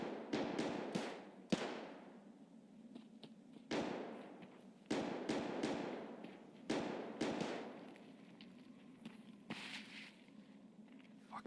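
Scav gunfire pinning down a player in Escape From Tarkov, heard as sharp, fairly distant cracks in irregular bursts, some shots spaced apart and some in quick clusters, each leaving a short echoing decay, with no voices.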